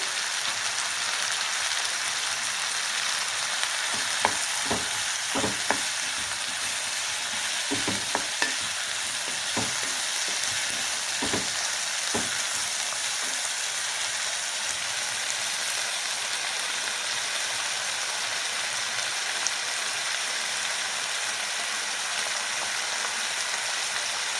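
Two chopped tomatoes fry in a pan for egg masala, a steady soft sizzle broken by scattered clicks and scrapes of stirring, with no one talking.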